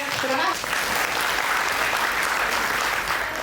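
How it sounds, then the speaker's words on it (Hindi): Loud, sustained applause from a meeting crowd welcoming the DDC at a women mukhiya gathering in Ranchi, steady clapping throughout with a brief voice near the start. "जोरदार तालियों से सर की स्वागत"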